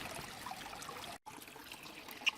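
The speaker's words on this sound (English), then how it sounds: "A hose coming out, shooting water into this bucket." A hose pours a steady stream of water into a bucket beside a hiking trail on Vancouver Island's North Coast. The rushing, splashing sound is close and continuous, with a very brief break near the middle.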